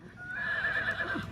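A horse on a trail-riding demonstration at a field day gives a clear, fairly close whinny lasting about a second, rising and wavering over quiet outdoor background, with faint hoof thuds.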